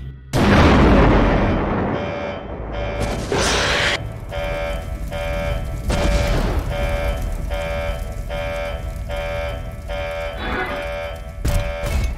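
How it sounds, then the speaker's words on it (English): A generator explodes in the FNAF fangame The Glitched Attraction, starting with a loud sudden boom and followed by a long rumbling, crackling aftermath under a pulsing, alarm-like tone. "Generator exploding in 6, 5, 4, 3,"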